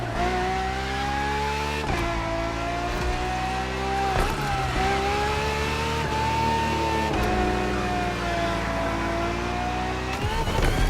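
A Ferrari FXXK race car in the video game The Crew Motorfest roars at sustained high revs for about eleven seconds, loud and close, with brief dips and snaps at each gear shift before the pitch climbs again, and no voices.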